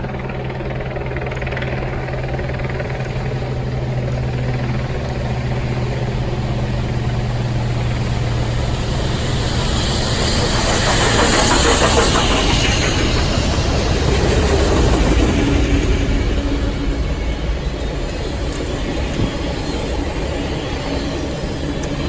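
Union Pacific Big Boy 4014 steam locomotive passing through Wheaton, Illinois, a loud, continuous rumble that builds to a peak midway and then eases, with a news helicopter droning overhead.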